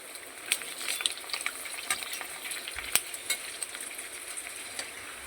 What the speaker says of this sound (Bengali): ফুচকাটা আমার ভাজা হয়ে গেছে।